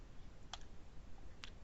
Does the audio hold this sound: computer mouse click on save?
yes